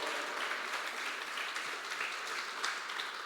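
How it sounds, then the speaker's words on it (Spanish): A church congregation applauds in a dense, steady wash of clapping that stays even and sustained throughout, heard from within the room with no voices on top. "Den un aplauso grande al Señor."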